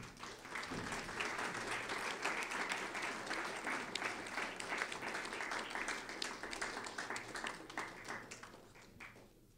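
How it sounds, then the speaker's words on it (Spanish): Applause for an award recipient at the Premio Museo de Historia Mexicana ceremony, a sustained round of clapping from a seated audience that swells, holds for several seconds, then tapers away, somewhat distant and soft. "pido un fuerte aplauso también"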